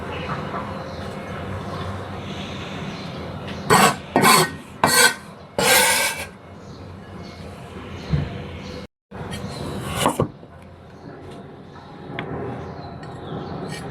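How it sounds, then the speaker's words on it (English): Knife chopping carrot into thin strips on a cutting board for homemade dumpling filling, a quick burst of several close, crisp cuts followed by a couple of isolated chops over quiet kitchen background. "First cut the carrot into thin strips, then chop it a bit finer."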